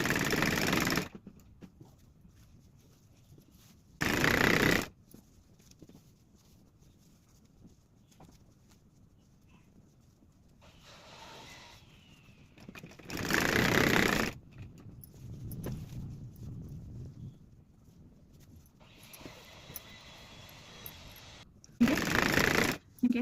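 A home sewing machine stitching folded satin or spare cloth for a hair scrunchie, with short loud bursts of fast mechanical whirring at the start, middle and end, separated by quieter handling and rustling of fabric.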